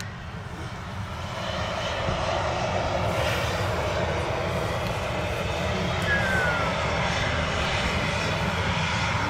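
Ryanair Boeing 737 airliner on the runway at Manchester Airport, jet engine roar swelling after a couple of seconds and then holding steady and fairly close.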